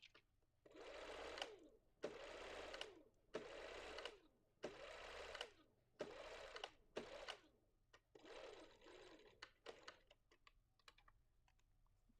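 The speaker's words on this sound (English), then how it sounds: "let me do the little edge stitch first. It could be zigzag, but I'm just gonna do a straight stitch." Short, close runs of a sewing machine sewing a straight edge stitch, about eight rhythmic bursts with brief gaps between them, fairly quiet overall.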